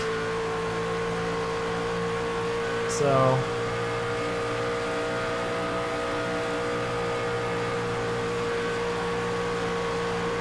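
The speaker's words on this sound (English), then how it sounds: "as we hear, the trucks are basically flat out around here at Chicagoland" Racing trucks run flat out at Chicagoland Speedway in a racing game, a steady droning engine whine held at constant pitch throughout, with a brief spoken word near the start.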